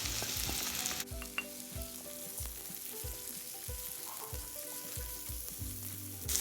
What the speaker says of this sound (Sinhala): මම මෙතන කපාගෙන තියෙනවා සුදු ලුණු, බීලුණු, අමු මිරිස්. ටික හොඳට බැද ගන්න ඕනේ.